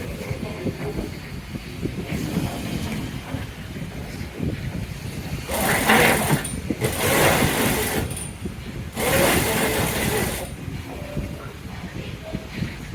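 A sewing machine stitching the lining at the upper neckline of a jumpsuit, running in about three steady whirring bursts of a few seconds each over a constant low background hum.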